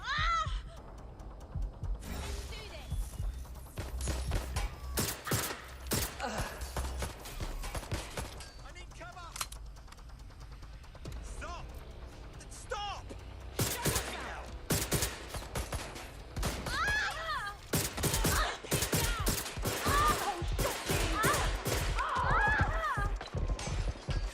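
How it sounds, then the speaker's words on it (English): Gunshots in Watch Dogs: Legion during an Albion boss fight: sparse sharp cracks at first, then increasingly frequent bursts of rapid fire in the second half, with voices talking throughout between and over the shots. "Shots fired."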